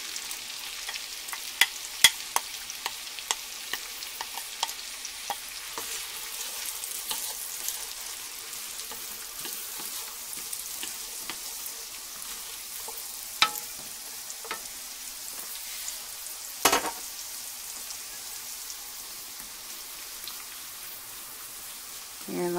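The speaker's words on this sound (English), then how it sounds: "butter's all melted and onions are going in, and this is both onions" Chopped onions sizzling in melted butter in a pan, a steady frying hiss with occasional stirring clicks and scrapes throughout, fairly quiet and close.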